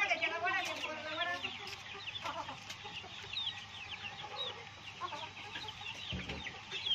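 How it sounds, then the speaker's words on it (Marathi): DP cross chickens in a compartment of a terrace poultry coop cluck and chatter close by, with several birds overlapping in a busy, fairly quiet stretch. "या कप्प्यामध्ये डीपी क्रॉसचे पक्षी आहेत"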